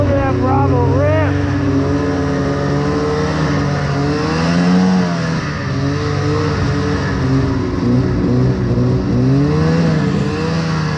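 A vintage Ski-Doo Bravo snowmobile engine revs hard and close during watercross, a loud buzzing two-stroke whine that rises and falls in pitch throughout, with excited voices shouting over it.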